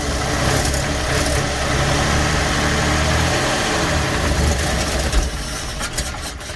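An old farm tractor engine, still needing choke, runs loud and close with a steady, rough rumble and a low, vibrating idle throughout. There is no talk over it.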